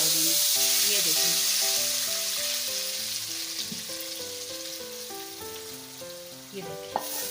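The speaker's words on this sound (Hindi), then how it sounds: "इसके ऊपर हम इसका जीरे का कड़ी पत्ता, हरी मिर्चें और धनिया, इसका हम ऊपर इससे तड़का डाल देंगे" Cumin seeds, curry leaves and green chillies crackle and sizzle steadily in hot oil as a tempering for pumpkin lentil dal, loud and close, with a melodic music track playing underneath throughout.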